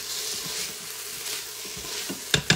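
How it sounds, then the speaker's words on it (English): Vegetables for corn chowder sauté in a quick cooker with a soft, steady sizzle, then two sharp scraping clacks from stirring near the end. "So we've got those sauteed for 4 to 5 minutes, stirring occasionally."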